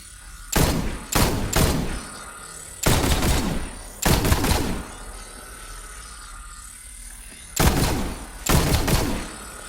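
Bursts of gunfire from a player shooting runes through rings in the video game Borderlands 3, six sharp loud volleys in uneven pairs separated by quiet gaps, with a faint steady tone humming underneath.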